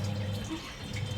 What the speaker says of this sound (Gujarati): ભાઈ મૂકી દે નળી ભરાવીને વિશાખા દીદી